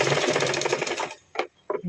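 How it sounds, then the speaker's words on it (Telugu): A sewing machine stitches three cut pieces of blouse cloth together, a steady dense whirring run for about a second before stopping, followed by two short bursts of stitching. "ఇప్పుడు ఈ 3 పీసెస్ని ఇలా స్టిచ్"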